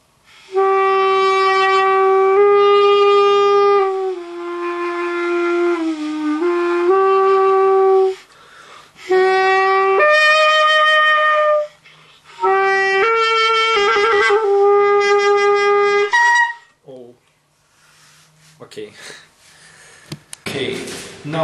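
Pocket sax bought from AliExpress played with reverb added, sustained reedy notes in several phrases with short gaps between them, loud and close, fading into a few quieter scattered sounds at the end.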